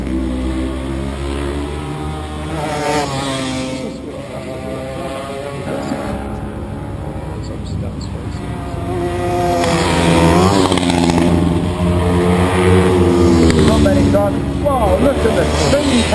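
Racing motorcycles roar past on a mountain street circuit at the Mountain Thunder 2013 street races, engines revving and surging through gear changes, growing louder in the second half. A commentator talks over the engines throughout.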